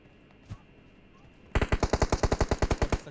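In PUBG Mobile, after a quiet stretch with one soft thump, a rapid burst of automatic gunfire erupts, about fifteen sharp evenly spaced shots in quick succession.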